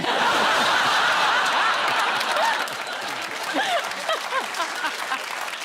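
A television studio audience on a comedy panel show claps loudly at first, then the applause thins into scattered chuckles and laughter with a few voices breaking through.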